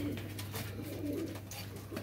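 Soft cooing of Sialkoti pigeons at close range, repeated low coos over a steady background hum, with faint voices nearby.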